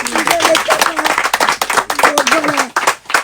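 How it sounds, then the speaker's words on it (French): Crowd at a live rumba concert in a Kinshasa stadium clapping and applauding, dense rapid hand claps filling the clip with voices mixed in. "est-ce qu'on peut applaudir pour son fils"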